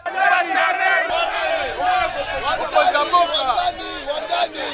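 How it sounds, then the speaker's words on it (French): Crowd of townspeople cheering along the route of a governor's inspection tour of construction works, a dense continuous roar of many raised voices and shouts, loud and close, with babble running throughout. "L'ensemble du parcours a été ponctué par les acclamations de la population"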